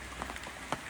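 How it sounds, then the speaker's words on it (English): Rain falls on a campsite at Van Hook Glade Campground in the Nantahala National Forest, a steady soft hiss with a few brief, louder drop-like taps. "it's lightening up a little bit, but it's been pouring rain"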